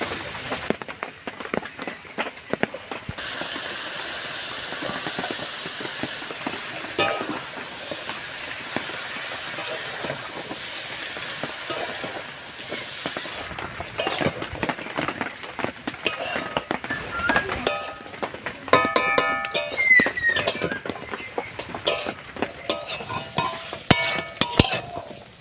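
Greens being stirred and tossed in a cooking pan, with a steady scraping, clinking rattle of the utensil against metal and soft sizzling, moderately close and continuous, growing busier toward the end.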